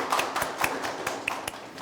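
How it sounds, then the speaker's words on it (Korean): Scattered applause from a small audience at a Korean tax professionals' forum, a handful of separate claps spread unevenly over a couple of seconds, moderately faint in a room. "박수 부탁드립니다."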